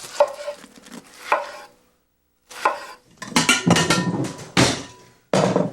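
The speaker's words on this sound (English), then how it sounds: "The key to grilling a pineapple is to cut it into nice thick slices." A knife cuts a pineapple into thick slices on a board, giving several crisp, close chopping bursts separated by short pauses, with no one talking.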